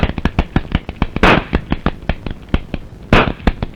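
Rapid sharp gun bangs crack out in a film scene, a fast irregular string of loud close reports with two heavier blasts among them, dense and continuous throughout with no voices.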